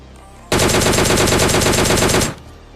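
Automatic gunfire in the mobile game PUBG Mobile Lite, one loud, rapid, evenly spaced burst lasting nearly two seconds that starts abruptly and stops sharply.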